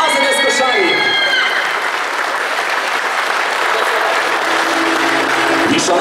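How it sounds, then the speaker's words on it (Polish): A crowd in a shopping gallery applauds loudly for the AZS Koszalin sports team at its season presentation, sustained dense clapping filling the space, with a voice briefly audible at the start over the applause. "jeszcze raz wielkie brawa dla nich"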